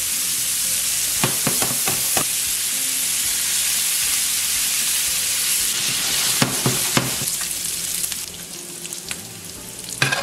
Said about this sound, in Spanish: Añadimos la tocineta.